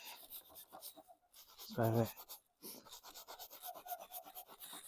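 Scotch-Brite pad scrubbing the head gasket surface of an MG TF engine: close, soft rasping rubs in short strokes, with one louder, harsher scrub in the middle and quiet pauses between.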